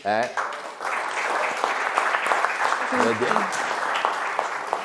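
Studio audience applause on an Italian local sports broadcast, a dense steady roar of clapping filling the room for several seconds, with a voice briefly speaking over it near the start and again partway through.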